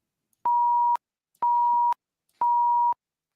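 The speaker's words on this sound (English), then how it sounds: "So sine wave, very boring." A pure sine-wave tone from MakeCode Arcade sounds three times, each steady beep lasting about half a second with an even gap between, clean and alone.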